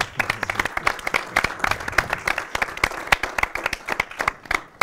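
An audience applauds with dense, steady clapping from many hands, lasting a few seconds without any speech.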